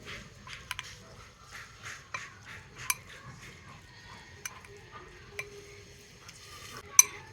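A spoon scrapes and clinks against a bowl while flattened rice and semolina soaked in water are stirred together, giving soft irregular taps and occasional sharper metallic clinks, close and quiet with no talking.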